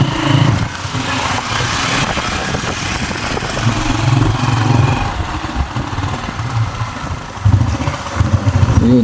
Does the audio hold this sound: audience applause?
no